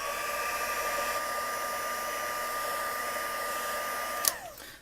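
A heat tool runs steadily on glitter over heat and stick powder, a constant whooshing blower hum with a faint whine. It clicks off near the end and winds down quickly.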